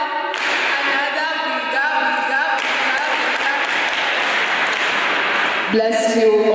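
An audience claps for about five seconds at a members' commissioning ceremony in Mombasa. The dense, steady applause fills the room, with a voice or music carrying on over it.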